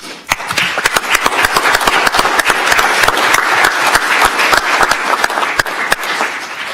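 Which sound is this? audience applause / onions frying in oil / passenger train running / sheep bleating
audience applause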